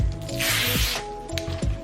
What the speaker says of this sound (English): And you just spray your face.